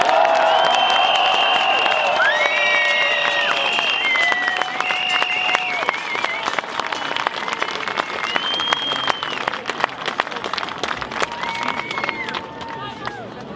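Audience applause with cheering greets Dr. Marco Caimi at a silent protest march in Liestal, a dense sustained clapping crowd that thins slightly over time, with a voice speaking over it throughout.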